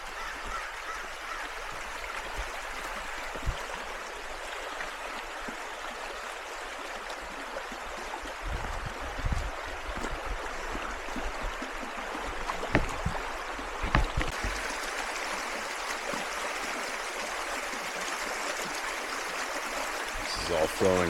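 A mountain stream in the Ouachita Mountains runs over rocks with a steady, close rushing and trickling wash. Footsteps and handling bumps sound over it, and the flow grows louder partway through.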